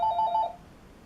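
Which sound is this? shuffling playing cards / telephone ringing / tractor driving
telephone ringing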